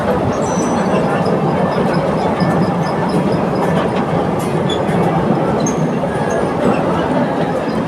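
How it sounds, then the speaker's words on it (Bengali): A small amusement park train rumbles past steadily and close, with continuous clattering wheels and rail noise throughout, no pauses. "ট্রেন চলাচল করছে এখানে"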